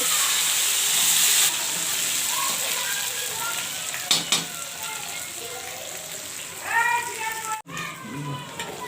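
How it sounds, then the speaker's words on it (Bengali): Boiled potatoes frying in a pan give a steady, close sizzling hiss throughout, with a few brief clatters and a voice speaking near the end. "সেদ্ধ আলুটাকে আমরা একটু ভেজে নেব"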